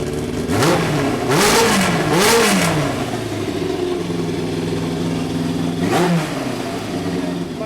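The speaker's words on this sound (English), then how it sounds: "You might think that testing the engine is frivolous." A Yamaha FZR 1000 motorcycle engine running nearby, revved several times with rising and falling pitch before settling back to a steady idle.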